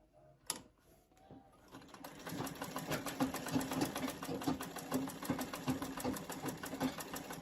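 Foot-powered treadle sewing machine stitching quilt strips: a loud, steady run of rapid mechanical clatter begins after a brief knock and continues evenly to the end, close up with no talking.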